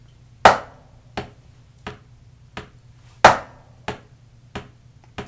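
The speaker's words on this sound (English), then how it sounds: "This is a traditional rudimental way of approaching a paradiddle" Snare drum paradiddle rudiment played slowly, evenly spaced single strokes with a louder accent on every fourth hit, crisp and close, gradually tightening in pace.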